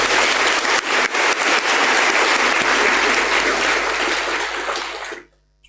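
First-year university students in a large hall clapping together, a loud, dense burst of applause that holds steady for about five seconds, then fades and stops abruptly.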